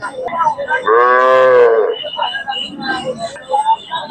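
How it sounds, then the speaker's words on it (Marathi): A Khillar cow at a cattle market in Sangola, Solapur, Maharashtra lets out one loud, drawn-out moo lasting about a second, close by, with murmuring voices and farmyard noise before and after. "ही एक गाय आहे"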